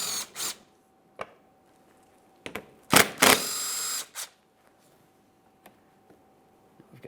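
A ratcheting 8mm socket tool clicks and whirs in short bursts while bolts come out of a 2008-2017 Mitsubishi Lancer 2.4L engine bay. Sparse metallic ticks fill the gaps between bursts.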